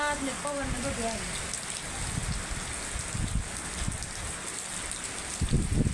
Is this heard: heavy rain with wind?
yes